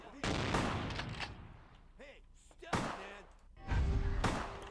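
Enemy shotgun blasts in Vampire: the Masquerade - Bloodlines, several loud booming shots spaced a second or two apart with heavy thuds and echoing tails, amid game effects and a talking voice.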